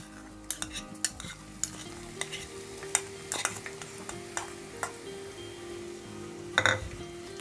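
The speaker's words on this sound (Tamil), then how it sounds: "நல்லா வதக்கிங்க." Garlic, curry leaves and green chillies sauté in a pan over low flame, giving a soft steady sizzle punctuated by regular clinks and scrapes of a spoon stirring, with a louder clatter near the end.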